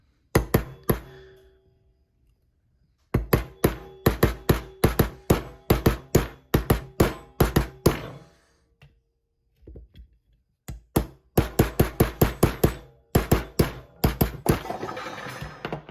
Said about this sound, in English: We're just gonna take this pin out.